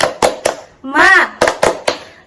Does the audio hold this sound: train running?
no